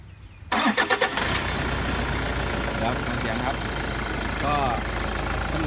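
A 2006 Toyota Hilux Vigo 3.0 Double Cab G automatic pickup cranks with a few rapid pulses, catches, then settles into a steady, loud diesel idle that runs on continuously, close by.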